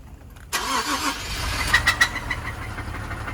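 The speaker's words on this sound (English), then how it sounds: "That screeching you're hearing is metal to metal rubbing together. And if I rev it a little bit, all that is bottom end knock." A worn-out car engine starts and revs with a heavy bottom end knock and a metal-to-metal screech from parts rubbing, close and loud, with sharp thumps pulsing over the rough running.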